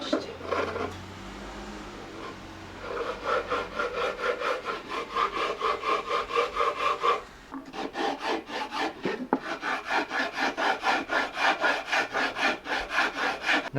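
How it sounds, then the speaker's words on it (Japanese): Carving tool scraping out the hollow inside of a bamboo stalk for a traditional Nanbu Morioka stream fishing rod, a steady rapid back-and-forth rasping close up, with a brief pause midway before the strokes resume. "中を削っていく"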